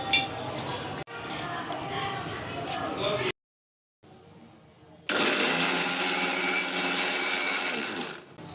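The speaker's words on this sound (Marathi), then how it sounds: "मिक्सरला चटणी वाटून घेतली आहे आपण" A kitchen mixer grinder whirs loudly while blending peanut chutney with green chillies and salt, running in two bursts separated by a short pause, with a voice speaking over the first stretch.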